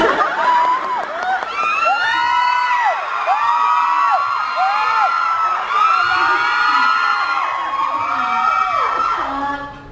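Fans at a fanclub awards show scream and cheer loudly and continuously, a dense crowd of high-pitched shrieks and whoops rising and falling in waves, close and sustained throughout.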